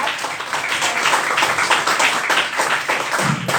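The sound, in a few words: audience clapping for speaker Maxine Molyneux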